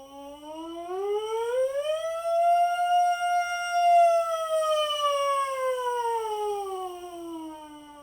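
A trumpet mouthpiece buzzes a smooth siren glissando, climbing from low to high, holding near the top, then sliding back down, a clean, steady buzzing tone played alone during a beginner warmup.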